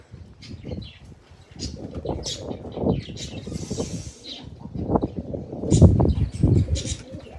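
Pigeons in a home loft coo again and again in low, throaty pulses, with scattered chirps and a brief flutter of wings close by.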